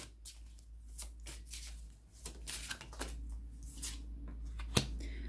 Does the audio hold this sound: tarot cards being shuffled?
yes